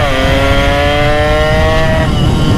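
A tuned motorcycle engine revs hard and close, its pitch sweeping upward in a steady climb for about two seconds before easing off, loud and continuous with no talk.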